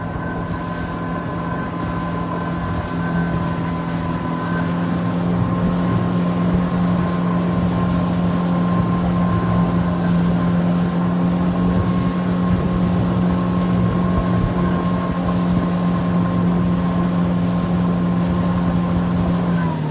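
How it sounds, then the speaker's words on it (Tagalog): Yamaha 60 horsepower outboard engine driving a Zodiac boat through Antarctic waters near Petermann Island, a steady loud drone with a constant hum and wind buffeting the microphone throughout, no talking. "So ang gamit ko palang Sojak engine is yung Yamaha 60 horsepower."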